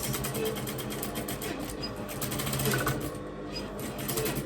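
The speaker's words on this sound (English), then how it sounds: "we're gonna stitch the third one, back stitch always" A sewing machine runs in a fast, even rattle of stitches while back-stitching a weft on a drawstring kinky straight yaki ponytail wig, close and continuous with no talking.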